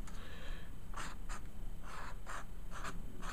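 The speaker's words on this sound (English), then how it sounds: "Quickly sketch him." Pencil on paper sketching a drawing, a series of short, soft scratchy strokes in quick bursts, close and quiet with no talk.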